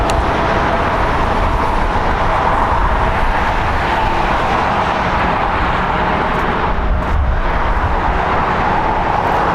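A Korean Air A380 airliner taxis at LAX, producing a loud, constant roar of jet engines that stays steady and close the whole time.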